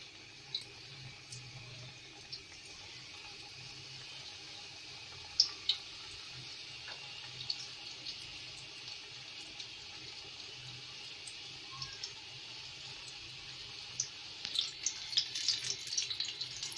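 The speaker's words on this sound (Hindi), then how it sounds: "अब हम समोसे फ्राई करेंगे इसमें" Samosas (chicken tikka cheese filling) deep-frying in hot oil in a kadai, giving a steady bubbling sizzle with scattered crackles and pops that grow busier toward the end, close and moderately quiet with no talk.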